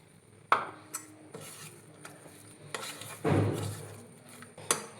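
Maida batter for neyyappam being mixed with jaggery syrup in a bowl: close, quiet stirring and scraping, with a few sharp clinks of a utensil against the bowl and a wetter swirl midway.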